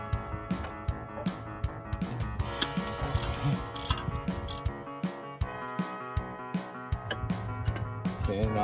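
A ratchet wrench clicks in quick repeated bursts while loosening a pulley above the water pump on a 1993 Jeep Cherokee engine, with sharp metallic ticks and short pauses between strokes, close and clear.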